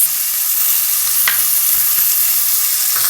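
Vegetables frying in a pan on a portable gas stove, sizzling steadily and loudly throughout with occasional scraping stirs, no voices.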